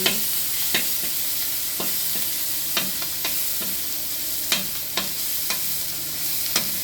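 Garlic, onion and chopped meat sautéing in a dry pan without oil for Filipino pakbet, a soft, continuous sizzle broken by sharp, irregular scrapes and clacks of a spoon stirring against the pan, close and with no voices.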